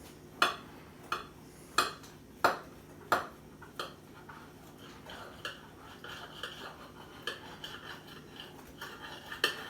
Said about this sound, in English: we're going to use our good old bread knife to slice it in half